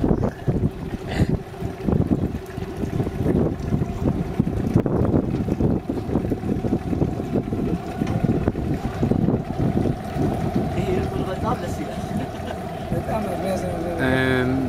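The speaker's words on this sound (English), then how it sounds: "this is the boat that carries the students across the river" Steady rumble of a boat carrying students across a river near Lake Tana at Bahir Dar, Ethiopia, with wind buffeting the microphone and voices talking over it throughout.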